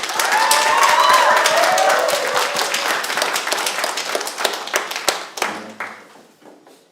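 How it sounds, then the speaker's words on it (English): A congregation at a Sunday church service claps to welcome the branch president, loud dense applause with some cheering at first that thins into scattered claps and fades near the end. "let's welcome our dear branch president InPyo Moon for special guidance with a big round of applause"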